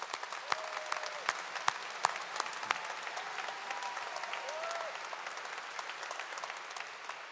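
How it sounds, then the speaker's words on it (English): Audience applause at a college of creative arts commencement ceremony, a steady spread of many hands clapping at moderate distance with some sharper individual claps standing out, no one speaking. "Let's give them a round of applause too."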